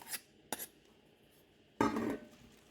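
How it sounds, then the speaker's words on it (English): A spoon stirs ingredients into a cabbage crunch slaw in a bowl: two quiet clinks, then a short, soft scraping and mixing rustle, all faint and with no talking. "So I'm just gonna try to stir this in."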